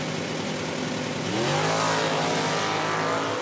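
A Hemi-powered Dodge and a 2005 Sunfire Super Stock drag car launch at an IHRA event in Hebron, their engines roaring loud and close and surging higher in pitch partway through.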